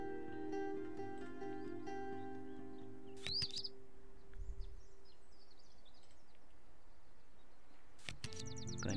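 A chipping sparrow's song plays as a bird call in the digital board game Wingspan, with brief high chirps and tweets over a steady background tone of game music.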